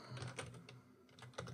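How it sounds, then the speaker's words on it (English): Someone types on a computer keyboard, with quick, faint key clicks in small irregular bursts, close by, and no voices. "just so you can see what I'm typing"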